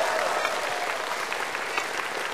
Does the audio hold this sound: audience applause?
yes